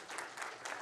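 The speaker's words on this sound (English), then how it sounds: "Please give him a round of applause." An audience at a community wellbeing gathering gives a short round of applause, a soft, thick patter of many hands that swells slightly in waves.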